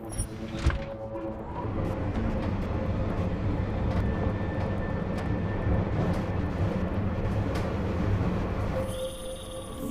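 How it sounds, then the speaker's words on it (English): A helicopter in the video game Deus Ex: Mankind Divided, a constant low rumbling drone that holds loud through a sandstorm, with sharp clanks early on and at the end. "you need to disable that chopper"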